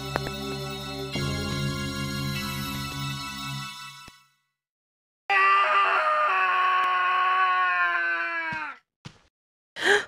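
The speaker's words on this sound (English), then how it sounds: "What's that scream?" A loud, drawn-out scream from the Clock Tower video game, a sustained wailing cry broken by a short silence before a second strained shriek, then a brief sharp burst, all over soft game music.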